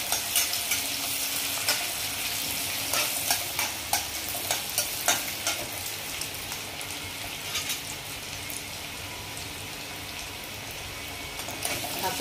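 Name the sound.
onion being sautéed and stirred in a pan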